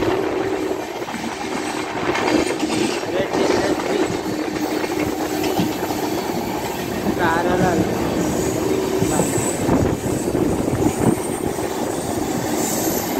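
An MMTS local train in Hyderabad runs fast, giving a loud, continuous rumble with rhythmic clickety-clack of wheels and occasional metallic squeal, heard from close by.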